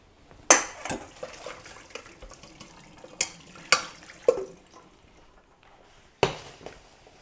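Rice for two being drained from a pot at a kitchen sink while cooking chicken colombo: running water with scattered clinks and knocks of metal cookware, fairly quiet, no talk.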